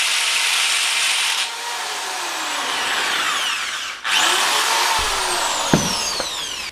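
A power drill whines steadily while boring into a wall, pausing briefly before starting again with rising and falling pitch sweeps, close and loud with a few sharp knocks near the end.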